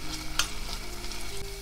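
Garlic and onions sizzle in a frying pan with a light scrape of stirring, a steady crackle and one brief clatter of a utensil.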